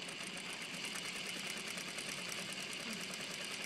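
A sewing machine stitches around the box of a welt pocket, a fast, even mechanical whir with rapid needle ticking, continuous and fairly quiet, with no talking.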